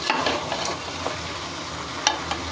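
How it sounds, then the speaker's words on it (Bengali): Food being stirred in a pan just after salt is added: scraping, rustling spoon strokes over a low steady background, with a sharper clack near the end, fairly close and with no voices. "নাড়াচাড়া করে নিব।"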